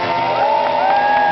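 Crowd of spectators whooping and cheering at a live chainsaw demonstration, a brief loud burst of shouts and cheers up close.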